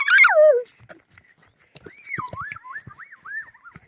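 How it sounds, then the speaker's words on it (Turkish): Village dogs in Kurşunlu, Dicle, with a loud yelp or whine at the start followed by quieter whimpering, yipping and scattered short sounds at close range. "Onlar arkadan havlar."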